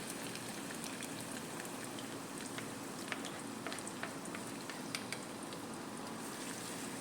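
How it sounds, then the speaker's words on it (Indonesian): Shallots and garlic sautéing in cooking oil for Indonesian fried chicken, a steady close crackle and sizzle of scattered sharp pops that runs without pause and with no talk. "Lalu di sini kita tumis bawang merah dan bawang putihnya."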